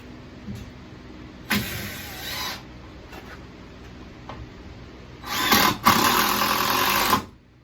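A power drill driving screws into a wooden countertop, two separate whirring bursts, one short and one longer, separated by quiet pauses.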